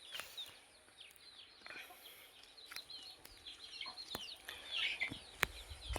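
Native country chickens and a rooster on a poultry farm cluck softly and intermittently, some distance away, with faint bird chirps and occasional small knocks in a quiet setting.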